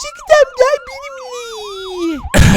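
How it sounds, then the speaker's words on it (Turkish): In the Minecraft video game, an ambulance siren yelps rapidly and steadily beneath a voice speaking Turkish, then cuts off into a short burst of broadband noise at the very end. "Ambulans galiba geldi."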